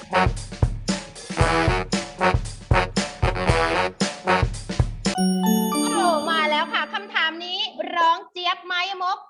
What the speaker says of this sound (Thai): เต้นไปกดกระดิ่ง